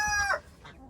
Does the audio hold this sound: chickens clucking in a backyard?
yes